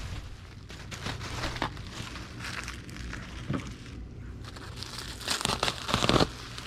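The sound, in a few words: bubble wrap sheet being handled and cut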